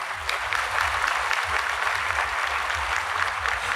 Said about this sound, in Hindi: ताली बजाना, खुश होना